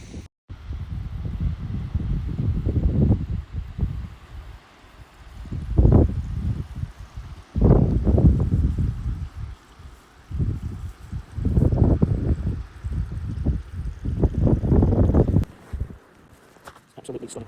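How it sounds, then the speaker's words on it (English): Strong wind high on a Snowdonia mountain buffets the microphone in heavy, uneven low gusts that come and go over several seconds, with brief faint voices between the blasts. "It's very windy"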